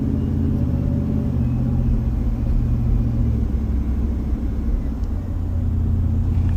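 A car driving along with a steady low rumble of engine and road noise heard from inside the cabin, continuous and fairly loud throughout.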